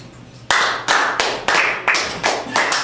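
A comedy show audience applauds with loud, sharp claps that come in quick repeated bursts, close and bright, with no talk.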